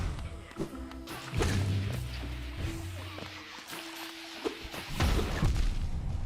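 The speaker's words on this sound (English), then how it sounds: "I got hit by an explosion, and I'm actually very close to dead" An explosion in the video game Hollow Knight, heard as loud booming thuds and sharp crashing hits layered over low rumbling game audio, with several impacts spread across the moment and no talking.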